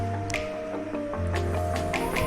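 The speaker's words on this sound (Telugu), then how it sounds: "ఒక 2 నిమిషాల పాటు ఈ మీడియం ఫ్లేమ్లో ఈ ముక్కలు అనేవి నూనెలో బాగా మగ్గించాలి" Onion pieces fry in oil on a medium flame with soft crackles and wet pops over a steady kitchen hum, close and continuous, with no one talking.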